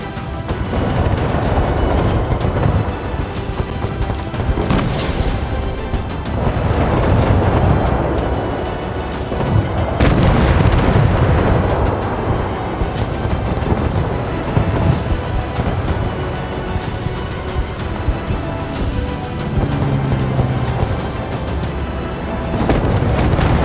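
Missiles and shells explode in a WW2 naval warship battle video game, with heavy rolling booms and blasts following one another almost continuously, loud and dense throughout.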